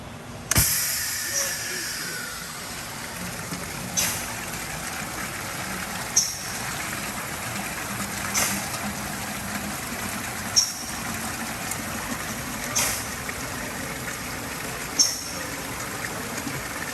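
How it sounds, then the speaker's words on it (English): An ME1 flush trough runs its flushing cycle, with water hissing steadily through ball valves and a nozzle, punctuated by sharp pulses roughly every two seconds. "the only thing left to do is to activate the flush cycle, which I'll do right now and demonstrate this flushing action"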